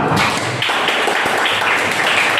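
Classroom applause from students in an Indonesian-language lesson, a dense steady patter of many hands clapping close by and filling the whole moment without pause.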